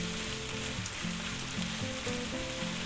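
Onions sizzle in a small frying pan for a crustless quiche with tomatoes and ham, a steady close crackling hiss of frying with a faint low tone underneath and no talking.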